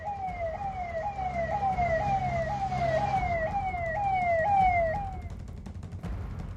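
A rapid wailing siren from an ambulance stuck in heavy snowfall in Jammu and Kashmir, being freed by an excavator, sweeps up and down repeatedly and loudly over a low engine rumble before cutting off near the end.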